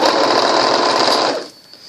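Sewing machine running a quick stitch across the ends of a vintage lace needle case, a loud close continuous rapid whir for over a second that stops abruptly, leaving faint room noise.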